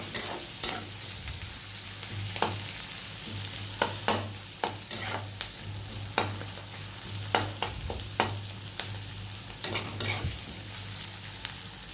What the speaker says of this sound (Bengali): পেঁয়াজটা হালকা ভাজা ভাজা হোক